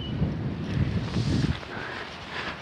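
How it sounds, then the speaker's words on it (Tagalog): Wind gusts outdoors, broad steady rushing and buffeting that rises and falls for a few seconds, heard alone with no voices. "Mahangin."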